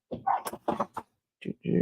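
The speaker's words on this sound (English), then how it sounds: "Why is she barking?" A dog barks indoors in a home kitchen during cooking, giving a quick run of four or five sharp barks and yips, then falling silent briefly before two more barks close by.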